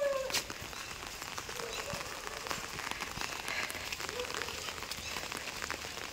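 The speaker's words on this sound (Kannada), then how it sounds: "ನೋಡಿ ಮಳೆ ಬರ್ತಾ ಉಂಟು" Light, steady rain patters in a village, a dense close hiss of drops running throughout with a brief sharper sound near the start.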